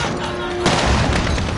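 Grenade blasts in a shooting video game, a sudden broad boom after a brief tone, followed by a rumbling burst of crackling detonations, with a voice faintly present.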